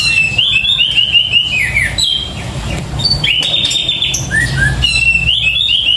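A songbird, a caged pet, chirps and whistles loudly and close, with repeated bright trills and short phrases over faint background noise.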